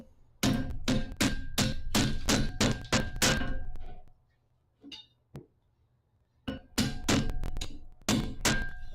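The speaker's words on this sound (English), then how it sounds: "I could probably break that off with the old hammer." Rapid ringing hammer blows on a hot metal piece at a forge, two runs of about eight loud, evenly spaced strikes separated by a quiet pause with a few lighter taps.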